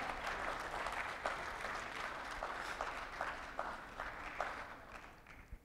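Crowd applause at a traders' conclave: steady, fairly distant clapping from many hands, even and continuous with a few sharper claps standing out toward the end.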